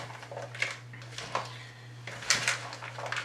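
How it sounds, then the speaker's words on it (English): Corn salsa being stirred together in a bowl, with scattered clinks and scraping bumps of a utensil against the dish over a low steady hum. "Now mix it all in there real good."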